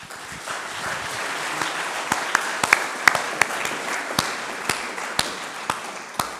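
Audience at a business awards ceremony applauds, a sustained wash of clapping punctuated by sharp, distinct individual claps standing out near the listener.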